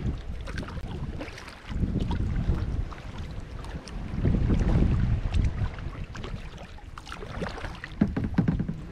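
Wind gusts buffet the microphone in rough, swelling waves while canoeing, with water lapping faintly underneath.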